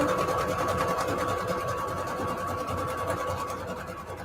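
A sewing machine stitches cardstock scrap paper at its widest stitch setting, a steady close mechanical whir and rapid needle clatter running without a break and without voices.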